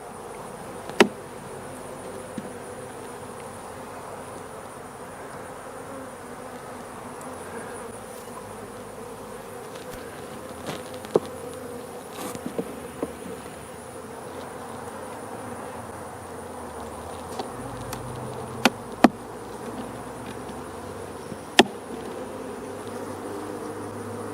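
Honeybees buzzing in an opened beehive during a winter inspection, a dense steady drone close by, broken by occasional sharp clicks and knocks of frames.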